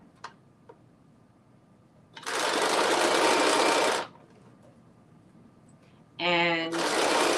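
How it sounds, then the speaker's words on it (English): A sewing machine stitches two back pieces of a garment together in two steady, loud runs separated by a quiet gap, close by with no talk over it. "right now we are stitching the two back pieces together"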